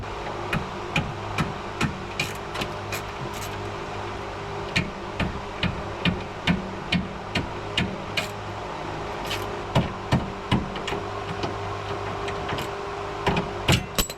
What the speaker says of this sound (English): This ratchet's not very happy.